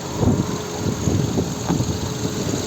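A 2007 VW Touran's 1.6 MPI BSE petrol engine runs close by, holding a steady, even idle with a continuous low rumble and no pauses.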